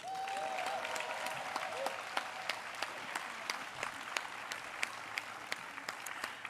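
Audience applause in a large hall during a closing session of a general assembly, steady scattered clapping from many hands at moderate distance, continuing evenly with a brief tonal sound near the start.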